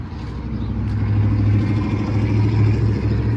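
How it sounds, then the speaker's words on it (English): Loud car engine nearby, a low steady rumble swelling slightly as it passes, heavy and continuous with no voices over it. "that was a loud car in front of me at the same time"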